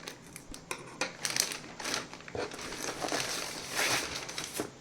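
Scissors cut through the packaging of a DJI Osmo Action 4 action camera, giving a run of close, crisp snipping and crinkling bursts of plastic and cardboard with no talking.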